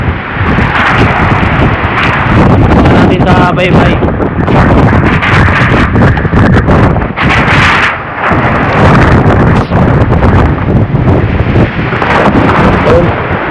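Heavy gusts of typhoon Tino along the shore of Canipo island, loud continuous buffeting roar with surging bursts that clip the microphone, while someone speaks briefly over it.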